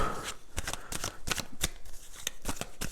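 Playing cards being picked up and handled at a table, a quick run of crisp flicks and riffles, close and fairly quiet, with no talking.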